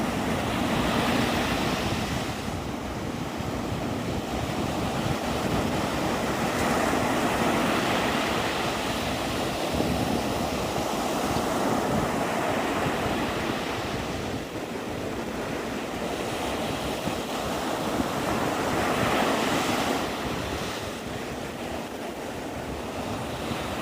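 Ocean surf at Navarre Beach, Florida rolls in continuous washes with steady wind buffeting the microphone, waves swelling and receding in a slow rhythm, loud and close, with no voices.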